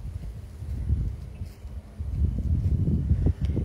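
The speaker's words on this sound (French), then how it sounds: "Il y a le vent qui se lève" Wind rising outdoors above a cliff buffets the microphone, low rumbling gusts that swell and build without any talk.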